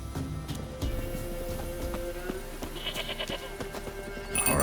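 Goat bleating in the video game The Witcher 3, a few short bleats over clopping hooves and ambient game sound, moderately near.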